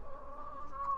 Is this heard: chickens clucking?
yes